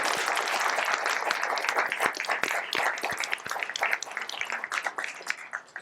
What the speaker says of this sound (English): Let's a round of applause for our speakers.